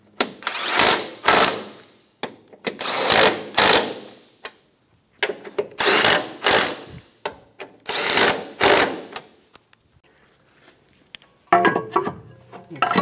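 Short bursts of a power tool snug down the strut nuts on a 2013-2017 Honda Accord front strut and spring assembly, several loud close runs of a second or two each separated by near-silent pauses.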